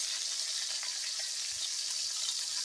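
Fresh sausage browns in a pan with a steady, close, bright sizzle and crackle that stays even throughout, with no voices.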